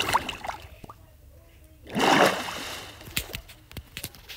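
Water splashing in the video game Minecraft, a sloshing burst in the middle followed by lighter trickling and clicks.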